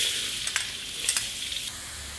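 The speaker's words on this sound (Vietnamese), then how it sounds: "Dầu bắt đầu nóng các bạn cho 4 muỗng canh tỏi băm vào." Minced garlic dropped into hot cooking oil in a pan, a bright continuous sizzle and crackle with a couple of louder stirring scrapes, close and steady before easing off.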